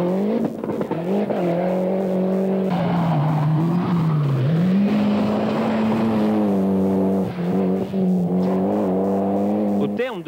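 Rally cars racing in a 1989 rally, Toyota cars in the lead, their engines droning and rising and falling in pitch as they rev and pass, with someone talking throughout.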